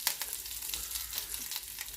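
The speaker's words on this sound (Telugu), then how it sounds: "Oil heat ఎక్కిందండి. జీలకర్ర, ఆవాలు, మినపప్పు వేస్తున్నాం. తాలింపు కొద్దిగా వేగనిద్దాం." Cumin, mustard seeds and urad dal crackle and sizzle in hot oil for a South Indian tempering, a steady close frying hiss with small pops throughout and no voices.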